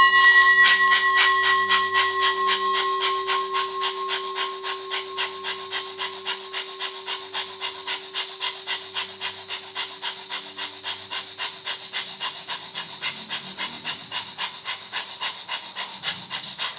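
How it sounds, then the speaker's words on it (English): Rapid, rhythmic breath of fire during a Kundalini kriya: quick forceful exhalations pulse at an even fast tempo for over fifteen seconds, close and clear over a sustained soft tone in the background. "we'll start the breath of fire for 1 minute"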